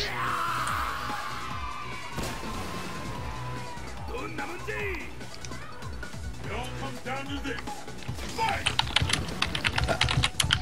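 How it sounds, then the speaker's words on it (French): Rapid typing on a computer keyboard during a game, with clustered clicky keystrokes building toward the end, mixed with voices and game sounds. "Heureusement que j'entends Maena frapper au clavier"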